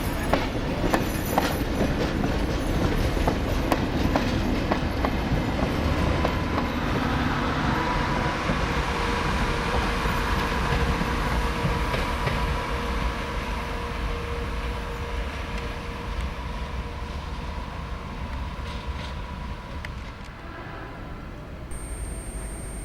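Locomotive 4204 rolls past on rails, a loud, close rumble with rhythmic wheel clatter and occasional squeals that gradually fade as the train moves away.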